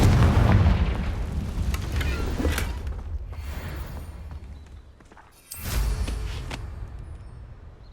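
A fiery spell explosion in a Harry Potter video game hits as a heavy booming blast that rumbles and fades, followed by a second deep burst a few seconds later.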